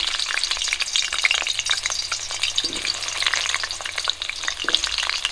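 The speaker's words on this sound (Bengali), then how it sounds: "তেল গরম হয়ে গেছে, আলুগুলো ভেজে নেব।" Sliced potatoes fry in hot mustard oil in a pan over a village clay stove, giving a continuous dense sizzle and crackle throughout, close and steady, with no talking.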